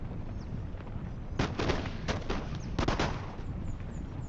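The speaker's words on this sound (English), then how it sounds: "Give them another volley." Several ragged musket volleys crack out in the Empire: Total War battle, irregular bursts of massed gunfire about a second apart over a steady rumbling battlefield background.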